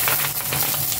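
Garlic, onion and ginger sauté in a hot pan with a steady, close sizzle that stays fairly loud throughout a short moment.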